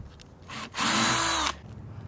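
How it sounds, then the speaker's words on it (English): A power drill bores countersink holes into a wooden kitchen cabinet for a camper van build, giving one loud, steady burst of whirring and grinding lasting under a second, with a quieter spin-up just before. "He's just drilling in."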